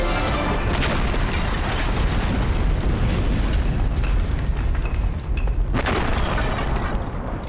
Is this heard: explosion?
yes